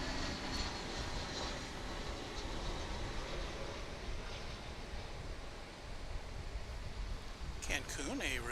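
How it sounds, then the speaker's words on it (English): An American Airlines Airbus A321 arriving from Cancun rumbles as a steady, broad engine roar at moderate distance, holding level for several seconds, with a brief voice near the end. "Here comes a flight from Cancun."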